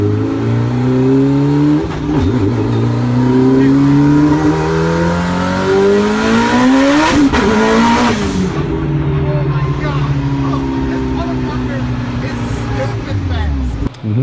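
A 1000hp Mitsubishi Evo with a dry sump system runs close by, its engine revving up and down in long sweeping climbs and falls, with one sharp peak midway before settling back to a lower drone.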